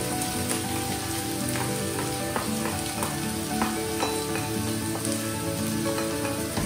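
Garlic sizzles steadily in a hot pan for a shrimp and cauliflower stir fry, a dense, even crackle and spatter with scattered pops throughout and no talking.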